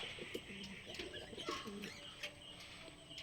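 Giribaz pigeons coo in soft, repeated low murmurs close by, with a few brief chirps over a steady background hiss.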